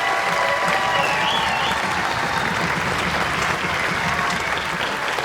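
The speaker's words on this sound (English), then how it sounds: "I think such an incredible performance deserves at least 2 or 3 rounds of applause." Steady applause from an audience at a junior school spring concert after an orchestra and band's first performance, a dense, even clapping that fills the room and sustains for the whole stretch without voices over it.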